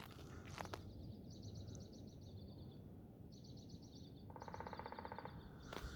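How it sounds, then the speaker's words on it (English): A woodpecker in Alaskan woods delivers a rapid machine-gun-like drumming burst, while other birds chirp in repeated trills nearby and light footsteps crunch underneath; fairly quiet and distant overall. "I got a woodpecker. Let's see if we can hear him."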